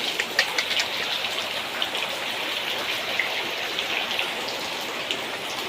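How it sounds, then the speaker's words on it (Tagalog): Steady rain falling during a flood, a continuous hiss of drops with occasional sharper patters on a surface, no voices. "Umulan na naman."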